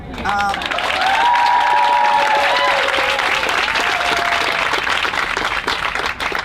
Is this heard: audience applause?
yes